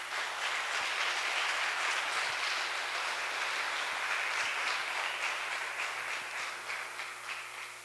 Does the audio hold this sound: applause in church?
yes